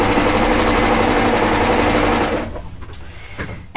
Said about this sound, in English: So I'm going to sew up my other seam.